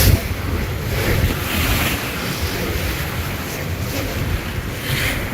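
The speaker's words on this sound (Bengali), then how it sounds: "মেঘনায় বাতাসও হচ্ছে এবং আচমকা ঢেউয়ের ঝাপটা আসতেছে লঞ্চের" Waves on the Meghna river splash against the hull of the Surabhi 7 passenger launch on a windy crossing, a steady broadband wash of water under gusting wind noise, close and continuous with no speech.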